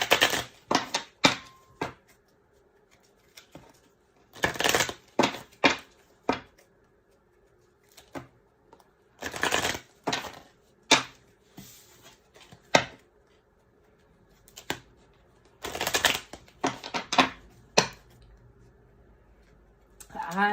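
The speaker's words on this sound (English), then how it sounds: "as I shuffle these cards" A deck of cards being shuffled in bursts of crisp riffling and flicking, repeated in short separated runs, close and fairly quiet, with no talking.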